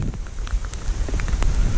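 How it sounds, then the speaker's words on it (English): Rain falling outdoors near a beach house along a landslide-prone coast, a close, crackling patter of drops on surfaces with gusty rumble underneath, steady throughout. "And with this rain"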